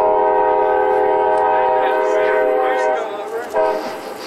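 A passing train blows its horn loudly and steadily for several seconds at close range, then fades with some rumbling and faint voices underneath.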